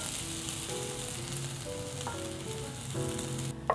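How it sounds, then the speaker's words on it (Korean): Shredded potato hash brown frying in hot oil in a heated Le Creuset skillet, a steady close sizzle with faint utensil clinks near the end and no talk. "이렇게 잘 섞었으면요, 이제 스킬렛에다가 한번 구워보겠습니다."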